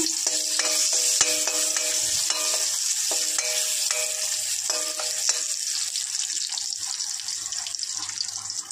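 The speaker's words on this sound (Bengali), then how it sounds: "আলু ভেজে নেব।" Continuous bright sizzling of potatoes frying in oil, with occasional clinks and scrapes of a spatula against the pan.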